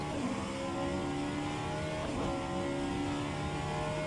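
A Vanwall Hypercar engine drones steadily and loud in rFactor 2 at Sebring, a continuous racing tone with shifting pitch and no pause throughout.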